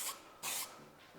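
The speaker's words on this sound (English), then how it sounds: "So I can spray that on," SEM guide coat, a powdery aerosol product, hisses from the can in short bursts onto a sanded engine bay during a panel van restoration, with one faint spray, one stronger puff and a soft tail.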